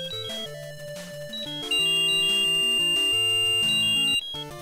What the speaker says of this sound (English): you get an annoying beeping sound